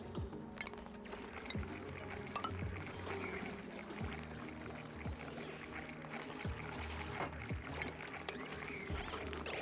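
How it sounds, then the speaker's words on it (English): A pitcher pump draws water in a colony video game, giving a steady pouring, trickling wash layered over busy game ambience and occasional clicks, continuous and fairly loud throughout with no talking. "we've got our pitcher pump fully accessing that water"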